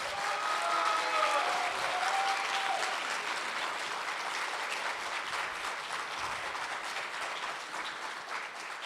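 A festival masterclass audience applauds a guest seated in the room, steady broad clapping from many hands lasting nearly nine seconds at moderate level, with faint speech at the start.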